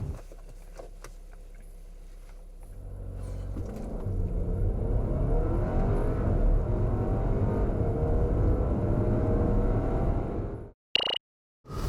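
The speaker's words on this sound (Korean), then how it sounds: "Q5 2리터 가솔린 모델 과연 얼마만큼의 가속 성능을 내는지 한번 볼까요?" An Audi Q5 45 TFSI quattro with a 2-litre petrol engine accelerates hard, its engine roar building steadily and loudly over several seconds before cutting off abruptly near the end.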